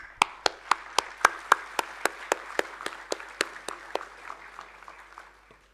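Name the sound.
audience applause at a convocation ceremony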